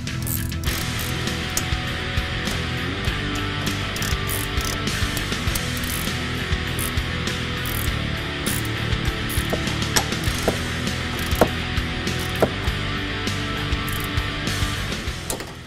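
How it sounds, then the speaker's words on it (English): A ratchet clicks in a fast, steady run close by, with sharper metallic ticks scattered through, as a wrench and socket tighten the sway bar end link on a 2015-2020 Mustang during a Ridetech coilover install. "And now we're gonna tighten the sway bar end link."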